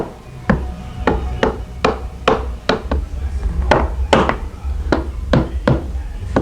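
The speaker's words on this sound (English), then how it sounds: "Fits tight enough that you got to tap it in with a snap-on hammer" Sharp repeated taps of a hammer tapping a router jig into a wooden panel, about a dozen evenly spaced knocks, close and fairly loud over a low background hum.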